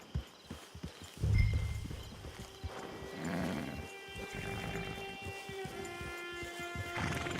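Horse hooves thud in a quick series in the video game Red Dead Online, then a horse whinnies and snorts nearby at camp over a low ambient hum.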